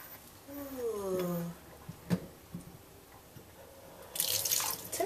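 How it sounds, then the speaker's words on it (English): A sink tap gushes water near the end during a puppy's bath, following a sliding vocal sound, a few clicks and soft background noise. "if the water is running out of our crappy sink"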